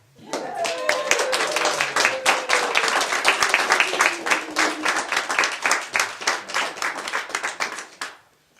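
Wedding guests clap at a ceremony as the couple is pronounced husband and wife, a dense burst of applause that swells and then thins into scattered claps, with voices underneath.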